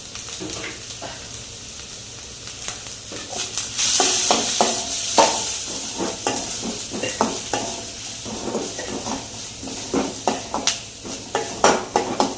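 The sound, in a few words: onion frying in ghee for paneer ghee roast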